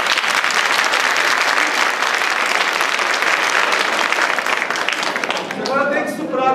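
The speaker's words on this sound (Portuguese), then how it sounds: "vamos bater palmas o mais energeticamente possível." Theatre audience clapping energetically, a dense loud roar of applause filling most of the stretch, then thinning out as a voice starts speaking near the end.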